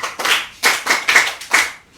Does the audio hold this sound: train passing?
no